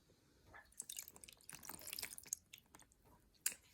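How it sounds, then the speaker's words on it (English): Water drips onto a Lego house during a rain test, a quiet scatter of small irregular ticks and splashes with one brighter drop near the end. "And last for our rain test is our Lego house."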